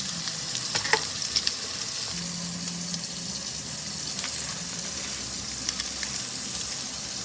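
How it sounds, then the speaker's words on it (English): French toast fries in a pan with a continuous soft sizzle and crackle, close by and moderately quiet, a few light clicks scattered through, no voices. "add your French toast. And then just cook it for about 3 to 4 minutes"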